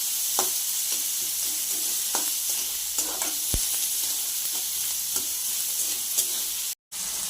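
Onion being sautéed in a pan for an okra (bhindi) dish, giving a steady soft sizzle with intermittent scraping stir clicks and scrapes throughout, no voices.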